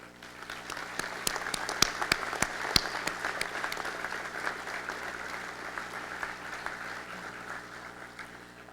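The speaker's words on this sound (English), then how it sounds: "I invite the graduates to join me in giving their families a round of applause." A commencement ceremony crowd applauds graduates' families, a steady wash of many hands clapping that stays fairly faint and distant, with a few sharper claps standing out early on.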